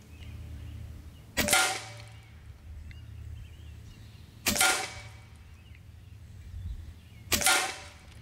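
Three sharp shots from an Evanix Air Speed regulated semi-auto air rifle crack out about three seconds apart, each a loud close snap with a brief ringing tail, over a low background rumble.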